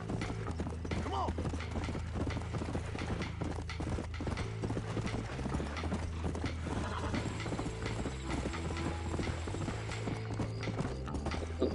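Horse hooves clip-clop in a steady, continuous rhythm in the Red Dead Redemption video game, mixed with game background sounds and a dense, busy soundscape throughout.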